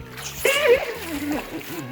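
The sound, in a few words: water splashing out of a primed siphon hose from a tank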